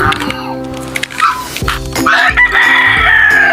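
Chickens at feeding time, with hens clucking close by and a rooster crowing loudly, all in a short, busy burst of farmyard fowl calls.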